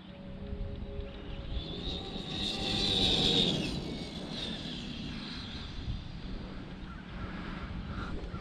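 An Arrma Mojave 8s RC car on new high gearing makes a mild test run, its motor whining up to a loud peak midway and then easing off, with wind noise buffeting throughout.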